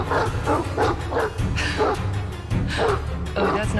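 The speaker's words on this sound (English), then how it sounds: "Dogs!" A pack of dogs barks repeatedly in quick, loud bursts, with several overlapping barks and yips close by in a tense scene.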